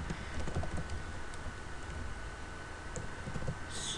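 Soft, steady keystrokes on a computer keyboard as a name is typed, faint clicks over a constant background hum with no speech.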